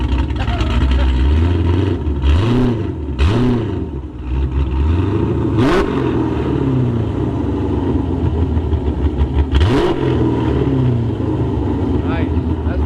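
A car fitted with American Racing headers idles with a deep, steady rumble, then a few quick throttle blips rise and fall sharply, loud and close, with people talking over it.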